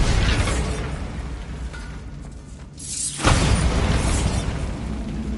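A Bombarda blasting spell explodes in Hogwarts Legacy, a loud sudden blast that cuts through dense, busy game noise and leaves a broad roaring wash behind it.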